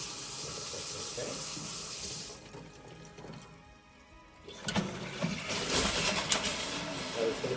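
Water from an open cold-water tap runs steadily while a filter system is flushed of air, a loud broadband rush that dips briefly midway and then surges back with sputtering bursts as trapped air escapes.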